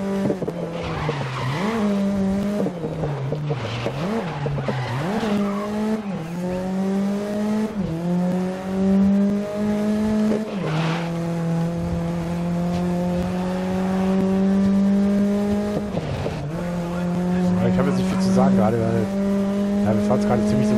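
Racing car engine in the video game GRID, Paris night race: a loud continuous engine drone that rises and falls with gear changes, with tire squeals and skids throughout and someone talking over it.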